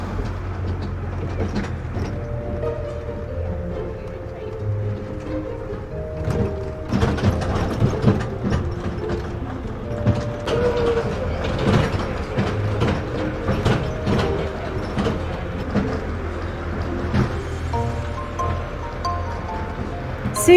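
The Weymouth land train rattles and clanks across the twin-leaf bascule town bridge, its motor humming steadily under creaks, knocks and mechanical clatter, with occasional faint voices in the background.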